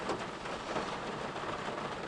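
Autumn rain falls outdoors in a steady, faint wash of soft hiss with no distinct drops standing out and no voices.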